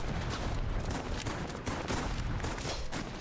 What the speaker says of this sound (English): Still firing off artillery.